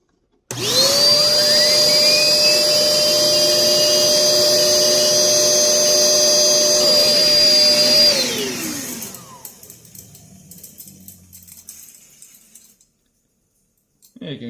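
A small homemade flywheel fan car running with its wheel rubbing against the fan, a loud steady whirring whine for several seconds that slows and fades as it winds down, followed by faint handling noises.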